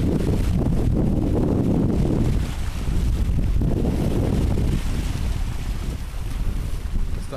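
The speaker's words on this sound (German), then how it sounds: "Also hier ist echt viel Bewegung hier mit dem Wasser." Choppy sea water churns off Sister Island, Singapore, a loud, continuous rush and slosh of waves with heavy wind buffeting the microphone throughout.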